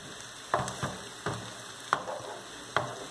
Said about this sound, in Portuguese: ele vai dar uma pequena fritadinha no bacon aqui, junto com a cebola